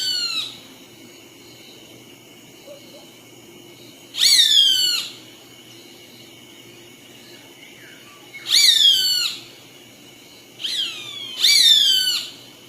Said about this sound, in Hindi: बाज की आवाज़ कुछ इस तरह से होती है।